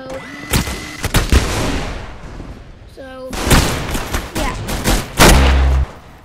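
Gunfire from a broken minigun in a video game, firing single shots instead of a stream: loud, separate sharp blasts at irregular intervals, with game sounds and a tonal effect between them.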